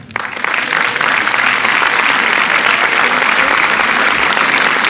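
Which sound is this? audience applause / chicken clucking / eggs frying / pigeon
audience applause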